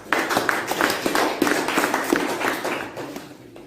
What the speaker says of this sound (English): I think they deserve a hand clap.